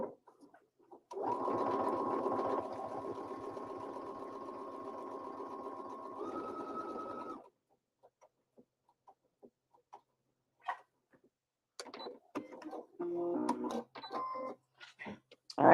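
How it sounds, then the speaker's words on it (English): A sewing machine stitching fabric with its foot pedal worked by the left foot at a quilting event, a steady loud mechanical whir running for several seconds, rising slightly in pitch before stopping, followed by scattered clicks and brief handling noises. "I'm sewing with my left foot."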